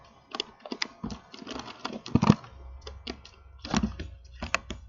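Close, irregular clicking and tapping of a computer keyboard as someone types code, in uneven bursts with brief pauses over a faint low hum.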